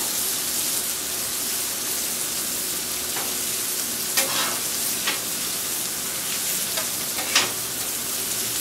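Onions sizzle on a flat-top teppanyaki griddle, a steady, close frying hiss with occasional scraping taps of a utensil.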